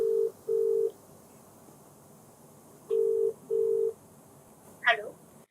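Telephone call being placed on a handset: steady mid-pitched tones sound in two pairs of short bursts, then a brief sharper click near the end, fairly quiet over faint room hiss.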